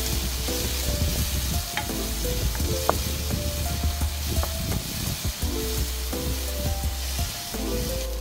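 Tomatoes sizzle steadily in a hot frying pan as a utensil scrapes and stirs them in irregular strokes, close and fairly quiet, with no talking.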